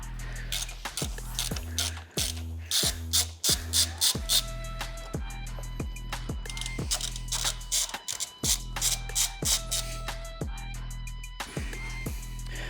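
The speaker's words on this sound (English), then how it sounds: "we need to undo these 4 bolts, which will release the clamp" Ratchet wrench working bolts loose on a motorcycle battery clamp: rapid, rhythmic clicking of the pawl in repeated bursts with brief pauses between strokes, close and fairly loud, with no voices.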